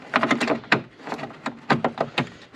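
An aluminum aftermarket door panel is slid onto the door of a Mazda Miata NB, giving a quick cluster of light taps and knocks, a pause, then more clattering contacts close by.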